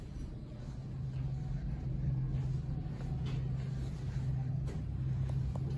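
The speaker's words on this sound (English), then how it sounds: "Very nice motor." The motor of a modernized Excel hydraulic elevator at a Neiman Marcus store runs with a steady, close mechanical hum and a low droning tone, continuous and even throughout, with no one talking over it.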